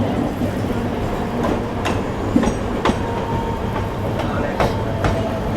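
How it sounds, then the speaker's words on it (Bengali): Mumbai local trains passing close by, one after another, with a steady loud rumble of wheels and carriages and occasional sharp clacks over rail joints throughout. "পরপর তিন তিনটে ট্রেন যাচ্ছে"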